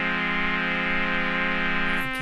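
A sustained deep house synth tone from the Razor synthesizer plays with a slow, subtle sine-shaped vibrato on its pitch, holding steady and dense before cutting off near the end.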